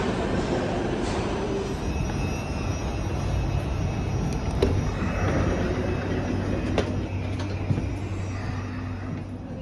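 Inside a Class 458 Juniper electric train in London, a steady low rumble and rolling wheel noise fill the carriage, with faint clicks and a thin high whine, no talking.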